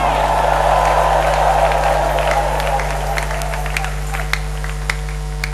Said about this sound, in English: Somebody give the Lord a clap and a shout like it's the 11th hour